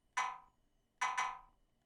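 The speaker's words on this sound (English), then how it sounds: "we went and we grabbed that classic Detroit perk that you hear a whole lot" A classic Detroit-style perc sample from a beat plays alone: a bright, snappy hit, a pause, then a quick doubled hit, each ringing briefly before fading.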